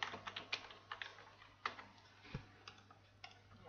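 Fast, uneven keystrokes on a computer keyboard while entering text into a password field, a string of light clicks close by with a steady faint hum behind them and no talking.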